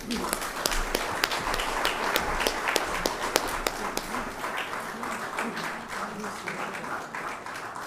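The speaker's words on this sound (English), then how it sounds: "A round of applause." An audience at the opening ceremony of a broadcasting union's annual general assembly claps in a steady, moderate round, somewhat distant, with voices murmuring beneath it.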